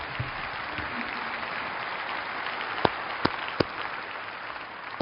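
Audience applause at a 2010 debate between Christopher Hitchens and William Dembski on whether a good god exists: a steady wash of clapping, with a few louder, sharper claps standing out near the end.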